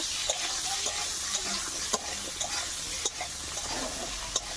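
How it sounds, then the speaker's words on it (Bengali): Eggplant frying in oil with salt and turmeric sizzles softly while a spatula stirs it, giving repeated light scraping clicks over the crackle at a moderate, uneven rhythm. "লবণ দিয়ে দেবো, হলুদ দিয়ে দেবো, দিয়ে আমি ভেজে নেব।"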